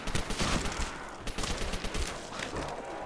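Rapid gunfire from an MG42 machine gun in a custom zombies shooter game, dense bursts of shots running continuously for about three seconds at steady loudness with no talk.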